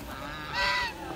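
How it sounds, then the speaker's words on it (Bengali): A goose on a mixed farm gives one short, nasal honk rising out of a quiet background, close and moderately loud. "রাজহাঁস"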